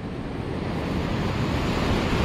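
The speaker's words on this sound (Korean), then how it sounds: "파도" Steady ocean waves surge and wash below a 25 m sea cliff on a fishing outing, a loud continuous roar mixed with wind buffeting the microphone.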